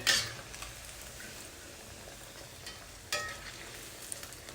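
Tofu pieces frying in oil in a kadai over a medium flame, turned on both sides: a steady, soft, close sizzle throughout, with a brief louder clatter at the start and another partway through, and no talking.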